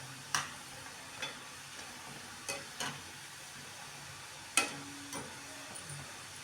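Badusha sweets frying in medium-hot oil at home, with a quiet steady sizzle broken by several sharp clinks and scrapes of a utensil against the pan, no voices.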